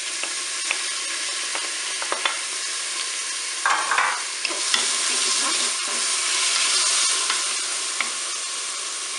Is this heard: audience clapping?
no